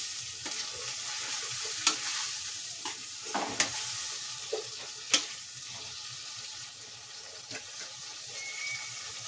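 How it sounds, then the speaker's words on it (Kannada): Tomatoes and onions fry in a pan for garlic rice, a continuous sizzle broken by scattered stirring scrapes and sharp spatula taps, close and fairly loud, with no talk. "ಚೆನ್ನಾಗಿ ಟೊಮ್ಯಾಟೊನ ಬೇಯಿಸ್ಕೊಬೇಕು ಇದರಲ್ಲೇ."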